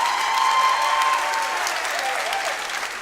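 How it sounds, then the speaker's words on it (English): A crowd at a Shin Do Kumite fight in the Bradenton Area Convention Center, Florida, claps for both fighters. The applause is a dense, steady roar that holds for a few seconds and then eases slightly. "let's have a nice round of applause for both fighters"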